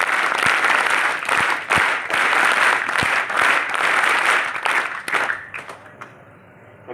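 A seated audience at a scouts and guides event in Sikar district gives loud, sustained applause to welcome the district collector, the clapping dense and steady before tapering off near the end.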